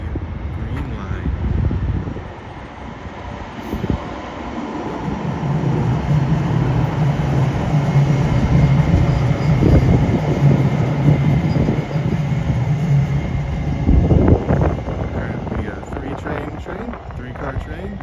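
Minneapolis Green Line light rail train, three cars long, rumbles past at close range with a steady rolling drone that swells over several seconds, while someone talks outdoors.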